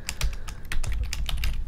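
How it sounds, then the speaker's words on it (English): Rapid clicking keystrokes on a computer keyboard, a quick irregular run of sharp close taps with brief pauses, no talk. "my typing is horrific today"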